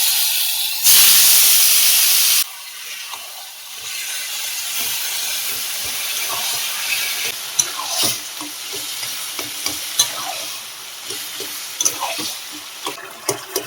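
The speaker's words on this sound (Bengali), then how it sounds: "ভালো করে কচু শাকগুলো নেড়ে দেবো" Boiled, drained taro leaves hitting a hot wok with a loud hiss, then a steady sizzle with repeated scraping stirs and clinks close by.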